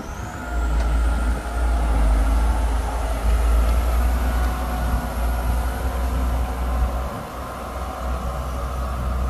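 A New Holland 8340 tractor engine runs steadily with a loud, deep diesel rumble and a faint high whine, pulling a marking implement across a field before planting.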